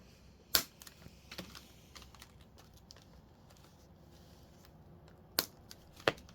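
A hobby knife trims the mounting tab off a plastic landing gear part from an Italeri 1/72 Ju 52/3m model kit, giving a few sharp isolated clicks and snaps over a quiet background, spaced apart with small faint ticks between.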